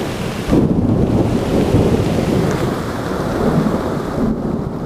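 Deep thunder rumbles beneath a steady wash of rain by a river, with gusty wind noise throughout, loud and continuous.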